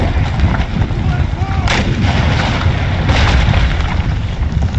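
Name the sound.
musket and artillery fire in video game Empire: Total War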